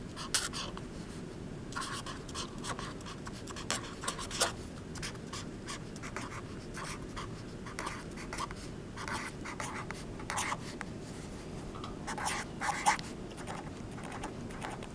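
A pen or pencil scratches across a sheet of paper in a classroom, a steady run of short strokes and scrawls at close range, faint and alone.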